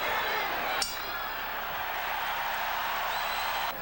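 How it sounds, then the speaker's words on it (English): Boxing arena crowd at the Julio Cesar Chavez vs Meldrick Taylor fight, a steady dense roar of cheering that swells as Chavez presses, with a couple of sharp clinks cutting through. "the crowd begins to heat up as Julio Cesar Chavez turns up the pressure"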